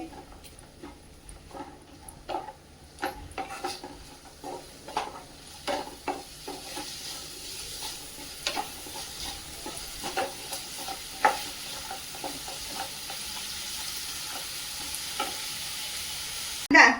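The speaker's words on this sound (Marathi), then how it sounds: "आता हे सगळं चांगलं असं साहित्य परतून घ्यायचंय" Tempering ingredients and dal for lemon rice are sautéed and stirred in a pan. Repeated soft scrapes and clinks sit over a steady low sizzle throughout, with a sharp knock at the very end.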